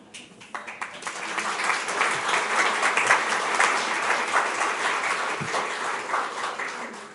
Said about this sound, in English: And while we have the applause